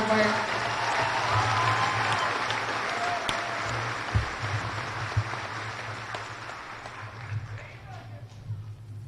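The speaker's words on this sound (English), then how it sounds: "Please join me in giving the students who earned an honors distinction another round of applause." A graduation audience at the 2018 HCHS ceremony applauds honors students with steady, roomy clapping spread across the hall, carried over a low electrical hum, with a few louder bumps near the middle.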